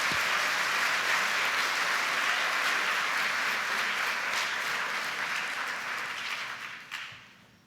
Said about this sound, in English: Let's give all these sixth graders a round of applause.